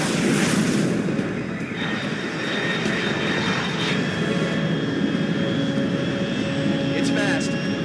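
A fast jet aircraft in the Metal Gear Solid Delta video game roars past at high altitude, a loud continuous engine rush with a whining tone, steady throughout and heard on its own.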